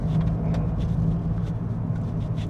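A VW Golf GTI Edition 50 drives over concrete road strips, giving a continuous close interior road and engine rumble with faint repeated bumps.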